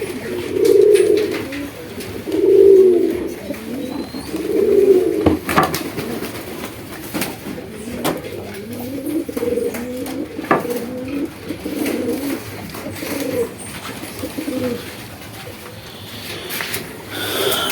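Several pigeons, including a Lakkha preparing to lay eggs, coo in low, throaty rolling calls, louder at first and then quieter and overlapping, with scattered faint knocks and rustles in the background.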